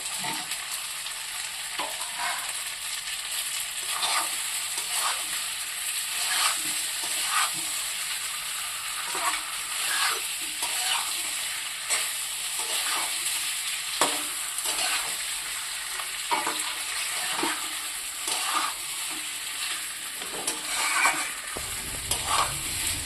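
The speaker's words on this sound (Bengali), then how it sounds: "মাংসটা অনেকটা টাইম ধরে কষিয়ে নেবো আলুগুলো দিয়ে দেবো" Poultry meat and potato pieces sautéing in a pan make a continuous close sizzle, broken by regular scraping strokes of a spatula, with no speech.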